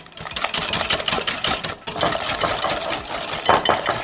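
Eggs and caster sugar are whisked together for a cake batter, a fast continuous mechanical whir from a mixer with steady rattling that dips briefly partway through, close and loud.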